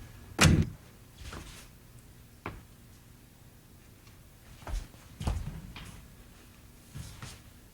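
A door swings shut with a dull thump in a small room, one strong knock-like hit followed by a few softer bumps and taps spread over several seconds, with no voices.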